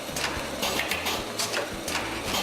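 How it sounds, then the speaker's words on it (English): A vertical form fill seal coffee bagging machine runs steadily, its repeating mechanical clatter and low hum forming a continuous, fairly loud pulse of cycling parts with no talk. "our coffee bagging machine."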